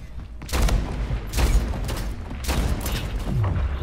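Heavy booming sniper shots from the game Splitgate fired without scoping, three or four loud blasts spaced about a second apart over a constant rumbling game backdrop.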